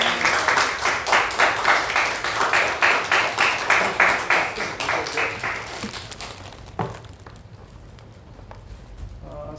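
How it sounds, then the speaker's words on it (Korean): A church congregation applauds after a baptism in Sunday worship, a loud rhythmic wave of clapping in the hall that tapers off after about six seconds. "여러분 크게 박수해 주시기 바랍니다."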